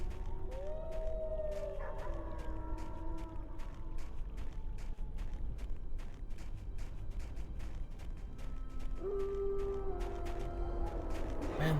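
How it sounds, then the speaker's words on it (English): Wolves in the Neverwinter Nights game howl in long, rising and falling wails over a steady rumbling ambience, with rapid rhythmic ticking running throughout and a second loud howl later on. "the screaming of wolves and owls is just absolutely constant"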